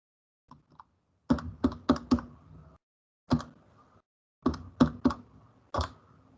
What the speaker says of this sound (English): Let me just check that a second on a calculator.